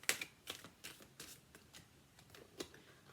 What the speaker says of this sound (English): I'm going to pull you a card from the Energy Oracle cards